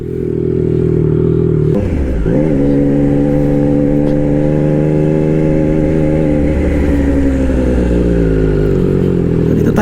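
Triumph Trident 660 motorcycle engine fitted with a Drift exhaust, warming up at idle: a loud, steady low rumble with a brief blip partway through, then settling back to an even idle with no talk.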